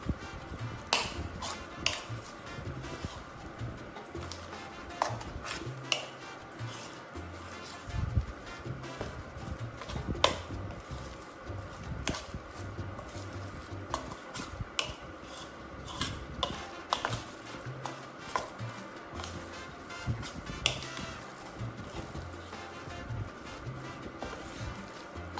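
Spoon scraping and clinking in a bowl while mixing Goan beef mince croquette mixture, a busy irregular run of close metallic knocks and scrapes going on without pause.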